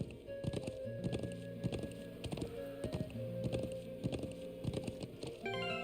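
Horse hooves clip-clop in a steady rhythm as a rider travels through the video game Trails of Cold Steel, moderately loud over a layered game music backdrop with no talking.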